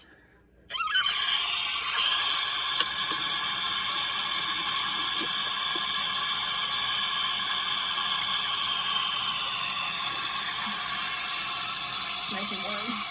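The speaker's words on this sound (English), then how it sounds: "I'm gonna turn on some hot water this time." Hot water runs from a bathroom sink tap, starting abruptly after a brief quiet moment and then hissing steadily and loudly, close by, for the rest of the clip.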